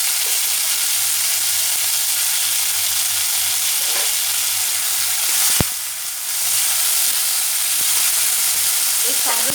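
Chopped tomato and ginger paste hit hot oil in a pan for a Bengali green jackfruit curry. Loud, continuous sizzling and crackling runs throughout, with a brief clatter midway.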